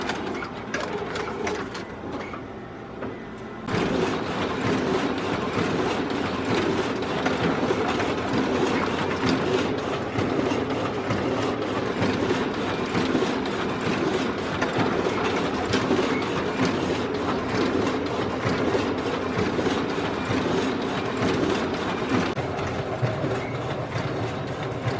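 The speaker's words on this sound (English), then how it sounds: "and then I just print it to our school printer." A school printer runs steadily, a continuous mechanical whirring and rattling of rollers and feed mechanism that goes on for the whole stretch, fairly quiet but without pause, with no talking over it.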